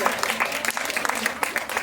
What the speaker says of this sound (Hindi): हमारे शायर साहब का स्वागत तालियों के साथ किया जाए